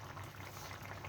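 A prawn and pointed gourd mustard curry with potato, taro and curry leaves simmers in a pot, giving a steady low bubbling and gurgling that stays soft and even throughout.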